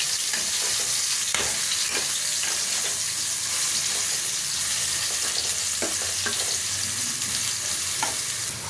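Soybean chunks fry steadily in a hot pan, with a continuous close sizzle and periodic scraping clicks from stirring, no voices present.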